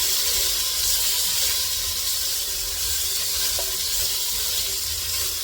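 Green beans and potatoes with bacon hiss and sizzle steadily in an oiled pan as they are stirred, a dense, close, continuous frying crackle with no talking.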